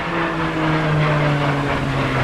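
An aircraft near Dublin airport produces a steady, loud droning roar that holds evenly throughout with no other sounds.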